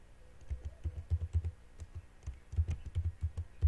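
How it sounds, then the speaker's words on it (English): Typing on a computer keyboard, soft key clicks in two quick bursts with a short pause between, close and quiet with no talking. "press your tab key on your keyboard"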